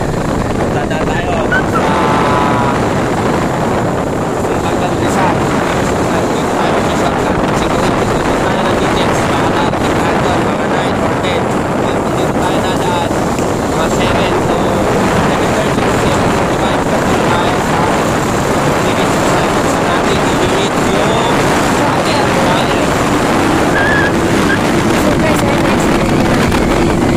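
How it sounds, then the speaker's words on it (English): Strong wind roars against the microphone over a steady motorcycle engine drone while riding a mountain shortcut road, loud and continuous throughout. "Malakas yung hangin. Tapos, yung ingay ng motor."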